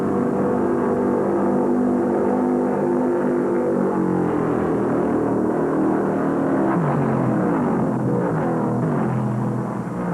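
Late-1960s NASCAR stock cars, including a Mercury, race at Darlington Raceway in the 1969 Southern 500, a continuous loud engine roar with rising and falling pitch as cars sweep past, with no talking.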